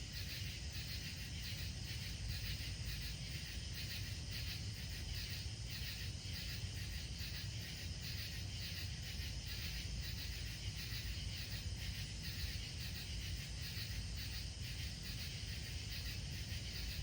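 Crickets and other insects chirp continuously outdoors at night, a faint, even, pulsing trill with no voices.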